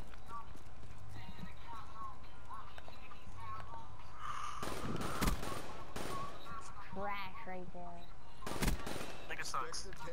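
Gunfire from an M8 assault rifle in Black Ops 3 during a one-on-one match, heard as a few sharp bursts amid busy game noise, with a voice talking over much of it.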